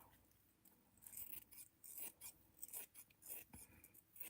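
Fabric scissors cut through appliqué fabric up close and quietly, producing a series of soft, irregular snips and rasping slices in quick succession over a near-silent background.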